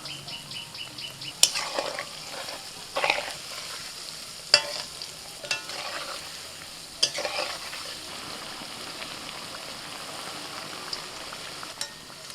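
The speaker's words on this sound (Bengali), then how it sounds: "কড়াইতে সাদা তেল দিয়ে, তেলটা যেই গরম হয়েছে আমি পকোড়া ছাড়তে শুরু করে দিয়েছি।" Cauliflower pakoras fry in hot white oil in a wok with a soft, steady sizzle, broken by a few sharp clinks and stirring clatters from a utensil.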